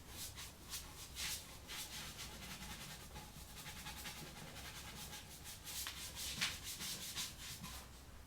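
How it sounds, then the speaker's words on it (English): Wood spinning on a lathe is sanded by hand during woodturning, making a steady, faint rubbing hiss with soft rhythmic pulses. It continues evenly and without a break, and no one speaks. "So obviously it's going to be sanded too."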